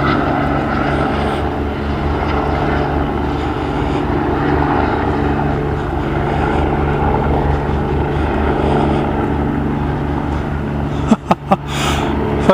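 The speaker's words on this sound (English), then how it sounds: "The fucking police helicopter's following you." A police helicopter circles overhead, its engine and rotor making a continuous loud drone that rises and falls slightly, with a few sharp bumps near the end.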